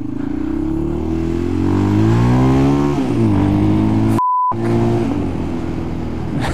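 Supermoto motorcycle revving and pulling hard under acceleration, a loud, close engine note climbing steadily in pitch, briefly dropping at a gear change, then building again, with a short electronic beep partway through.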